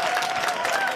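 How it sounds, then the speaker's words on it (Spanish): A studio audience on a Spanish television show breaks into loud, dense applause with cheering, a brief, full burst of clapping from a crowd close by. "¡Ese aplauso fortísimo!"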